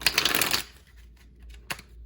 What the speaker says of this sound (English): That was a good shuffle.